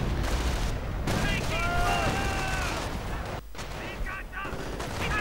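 Artillery fire from a Company of Heroes strategy game: repeated gunfire-like blasts and booms throughout, loud and continuous, with other battle effects layered in.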